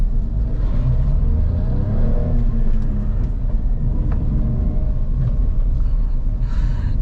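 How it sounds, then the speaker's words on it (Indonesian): A manual car's engine revs hard as the clutch is dumped in first gear for a racing-style launch: a loud, steady, deep roar that runs throughout without letting up. "ketika balapan langsung dilepas dengan cepat dan menambahkan gas dengan ekstrim"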